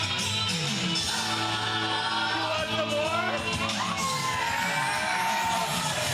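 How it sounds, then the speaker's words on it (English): A home crowd at a pro wrestling show in Guelph cheers and yells for a wrestler, a loud sustained roar with whoops and bellows rising and falling throughout. "Daddy Davis gets the reception from the home crowd here in the Royal City"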